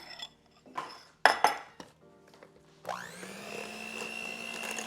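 Cream cheese and melted butter mixture for a yellow birthday cake, scraped and clinked in a bowl, then an electric mixer starts and whirs steadily close by, no talking.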